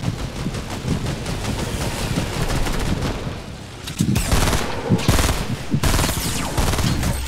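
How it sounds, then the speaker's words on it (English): Rapid, dense gunfire aimed at the player in Fortnite battle royale, a continuous loud rattle of shots with sharper bursts in the latter half, close and sustained throughout. "I'm getting shot."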